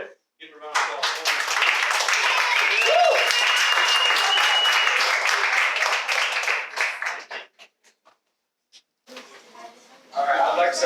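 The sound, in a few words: audience round of applause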